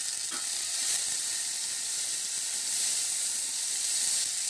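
Chopped tomatoes go into a pan of onions frying for a kala chana masala, and a steady, close, even sizzle and hiss continues without a break. No one talks.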